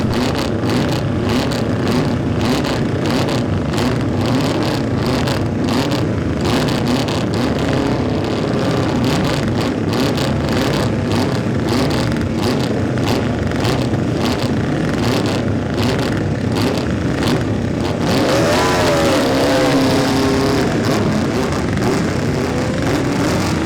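Classic racing motorcycles at the Classic TT senior race roar past loud and continuous, engine noise filling the whole stretch, with a rising whine as one machine passes close near the end.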